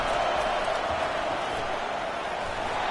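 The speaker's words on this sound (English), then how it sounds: "Listen to this crowd just shaking the girders of this place trying to help their defense." A loud football stadium crowd at a USC vs UCLA game roars steadily without a break, a dense and continuous wall of cheering.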